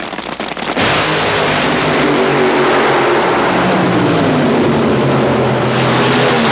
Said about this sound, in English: ike Dunn and his powerful machine prevailed, winning the funny car title at the Fall National